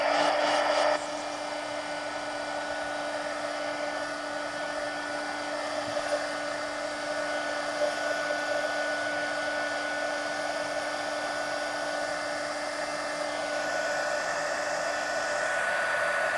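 Hair dryer blowing steadily on wet watercolor paint in an adult coloring book, a loud, close, continuous roar with a whining tone throughout, no voices.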